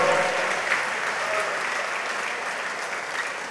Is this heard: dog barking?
no